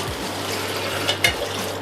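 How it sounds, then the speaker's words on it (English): Water pours steadily from a tap over chopped dried chili pods for soaking, a continuous close gushing fill with a couple of brief splashy clinks near the end. "And I add some water"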